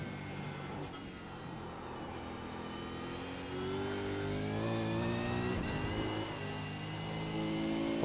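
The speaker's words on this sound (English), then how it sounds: "Wheel spin city." A V8 Supercar racing engine revs hard under acceleration with wheel spin, its rising harmonic whine climbing and holding steady, loud and close, with no talking.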